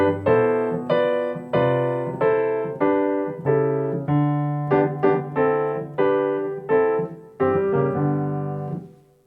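An instrument plays "Joyful, Joyful" in a gospel style at beginner level, a series of full sustained chords struck one after another in a steady rhythm, clear and close with no voices.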